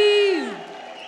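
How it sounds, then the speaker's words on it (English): A church congregation ululates with one high, sustained, wavering cry that breaks into a loud, close crowd roar of whoops and cheering, with clapping blended into the din. "Can I hear some ululations, people of God? Can we clap louder?"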